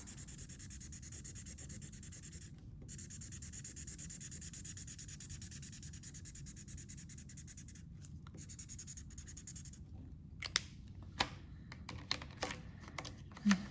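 Crayon scribbled across paper while filling in a drawing, a steady dry scratching and rubbing that runs continuously, close and soft, with a few sharper strokes near the end.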